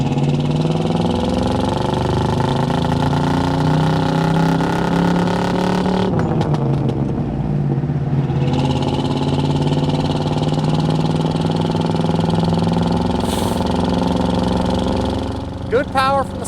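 A 1984 Chevrolet K10 pickup with a 5.7 TBI V8 and four-speed manual pulls away in second gear, its engine droning steadily and rising as it accelerates, with a brief shift dip midway and a voice talking over it.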